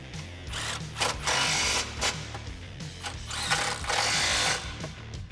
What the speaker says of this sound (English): I'm gonna start a couple threads and then hit it with my impact.